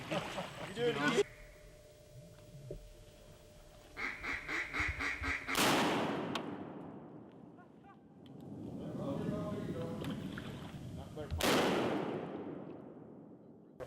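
Two loud shotgun blasts ring out, well apart, during a duck hunt, each with a sharp crack and a rolling decay. Duck quacks and people talking fill the time between the shots.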